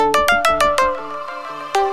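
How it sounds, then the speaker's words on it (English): Bright plucked synth notes bounce in a quick rhythmic pattern over a soft sustained Omnisphere 2 pad, then a final pluck chord rings out. "load this pad with a pluck"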